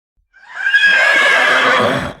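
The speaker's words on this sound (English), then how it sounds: "Bolt neighed in fear and began to jump chaotically." A frightened horse lets out a single loud, close whinny that rises sharply and holds a shrill quavering cry for nearly two seconds, alone without speech.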